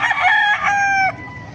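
A red Kelsom gamecock rooster, about two years old, gives a single loud, close crow lasting around a second, heard alone.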